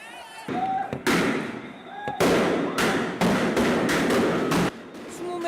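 A series of loud, sharp bangs as police fire tear gas, rubber bullets and live rounds at protesters against a military coup, in irregular succession, with shouting crowd noise between and beneath the blasts.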